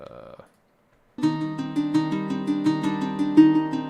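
After a short burst of sound and a pause, a plucked lyre plays a run of bright notes, each ringing out into a spacious reverberant tail.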